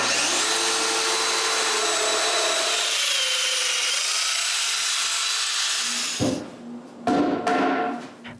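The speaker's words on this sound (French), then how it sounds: "Puis je marque pour 6 dominos que je perce ensuite." A domino joiner whirs as it plunges mortises into wood for six dominos in a bathroom vanity build, a steady motor hum followed by a few sharp cutting bursts near the end; no voices.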